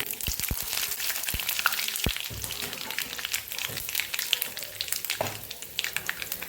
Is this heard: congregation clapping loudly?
no